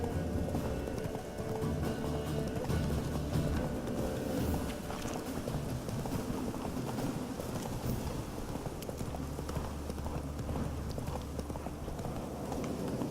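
Hooves clip-clop in a steady rapid rhythm as a horse gallops along in the video game The Witcher 3, set against a dense rumbling background, continuous and moderately close.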